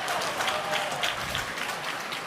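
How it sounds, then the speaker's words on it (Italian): Spectators at a Serie A1 roller hockey match between Valdagno and Follonica applaud a player, a steady, moderately distant wash of clapping across the arena. "Applausi per lui, applausi per lui."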